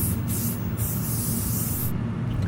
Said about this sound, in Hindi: अरे यार मारो तो स्प्रे, बेटा स्प्रे है, मारो स्प्रे